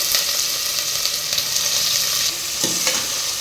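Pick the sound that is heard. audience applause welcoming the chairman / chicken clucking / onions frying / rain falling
onions frying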